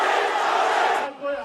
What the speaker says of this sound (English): The stadium was packed with Morobean youths holding up the Morobe flag and placards and chanting